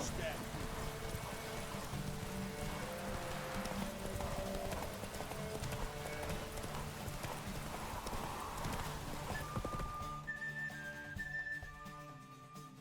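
Roach the horse trots in The Witcher 3 video game, steady clip-clop hoofbeats under faint rain and quiet background music, fading out toward the end.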